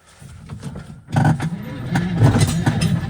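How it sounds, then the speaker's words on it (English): A vehicle engine revs up hard as its tires spin while trying to drag a pretty big log, the rough mid-pitched roar rising and holding at a loud level, with a voice talking over it. "Just spins the tires for a pretty big log."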